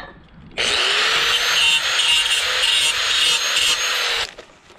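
Rough, steady scraping of an edge being cleaned up by rubbing on a greenhouse build, running loud and continuous for about four seconds before stopping abruptly, with no talking.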